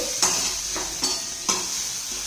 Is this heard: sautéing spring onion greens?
yes